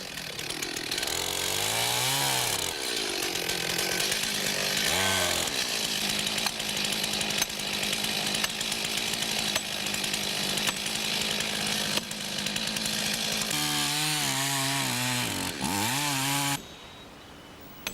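A loud chainsaw roars steadily at full throttle through a felling cut in a standing tree, with its pitch rising and falling as the engine revs change, then it drops to idle near the end.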